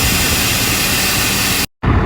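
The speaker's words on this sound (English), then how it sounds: "So we're running a front press on the tractor, consolidates the soil" A tractor running a front press across a field for spring beans, its engine a loud steady roar that cuts out briefly near the end and then resumes.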